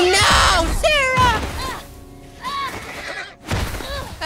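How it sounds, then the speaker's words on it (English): Horse neighing in The Last of Us, several whinnies close together amid tense game action, with a voice shouting over and between them. "Stop the fucking horse! Leave the horse alone!"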